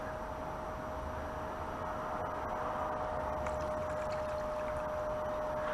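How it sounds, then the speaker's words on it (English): Water flowing steadily into a Blue Bowl gold concentrator, a continuous close trickling stream over a constant electrical hum, with a few faint clicks. "let's get some water flowing"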